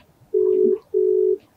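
A video call ringing tone sounds twice, two steady electronic beeps of about half a second each, clean and clear over a quiet background.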